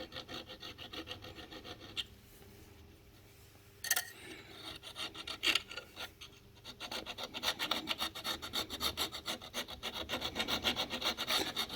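Light filing on the thread end of a shock absorber on a Monkey bike, a steady rasping scrape that starts up after a quieter stretch with a few brief knocks, then continues in fast repeated strokes.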